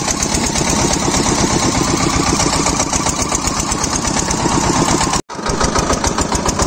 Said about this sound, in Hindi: जैसे ही गन्ने की जान लेता है डीजल इंजन की जान और निकलनी शुरू हो जाती है